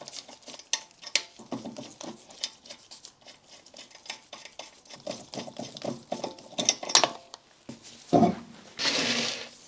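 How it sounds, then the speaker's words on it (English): Wheels coming off a Mazda MX-5 NC raised on axle stands: close metallic clinks, ratcheting and tool clatter in irregular bursts, ending with a louder scrape and rattle. "we can now remove the wheels"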